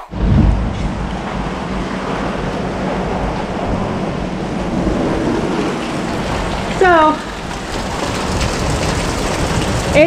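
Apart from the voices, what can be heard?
heavy rain and thunder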